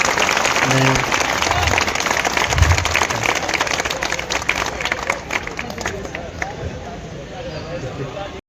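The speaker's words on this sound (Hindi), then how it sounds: "पुनः एक बार तालियां बजाकर स्वागत करें।" A crowd at a Tilhar degree college annual sports function applauds again to welcome the district magistrate, dense clapping mixed with crowd murmur that gradually thins and fades toward the end.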